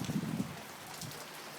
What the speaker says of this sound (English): Did want to catch a nice burst of rain like I caught last time